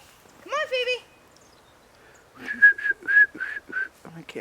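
A person whistles outdoors in cold weather, first a brief rising call, then a run of short, clear repeated notes in a quick rhythm, fairly close and alone against quiet surroundings.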